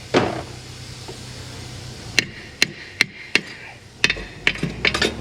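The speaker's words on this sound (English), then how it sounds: "Just a few hammer hits. V-bands out." Hammer blows knock a stuck V-band clamp loose from the exhaust on an L5P Duramax diesel: about eight sharp, close metallic strikes in an uneven rhythm, some spaced apart and others in quick pairs, over a low background hum.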